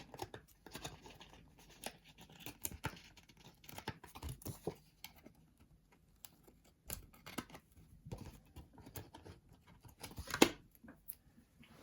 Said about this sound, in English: The scissors just a little bit here.